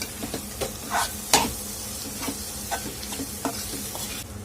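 Finely chopped ridge gourd stirred with coriander in hot oil, an even close sizzle with irregular clicks and scrapes of the spatula against the pan.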